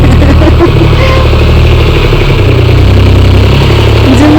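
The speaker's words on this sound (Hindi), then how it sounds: "छोटा सा ट्रैक्टर, इसमें तो फिर भी बड़ा दिक्कत" A small tractor engine idles close by, a loud, steady low chugging rumble that holds evenly throughout.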